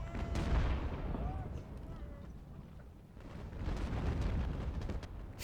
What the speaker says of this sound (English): It's about 180 guns firing at this one artillery group here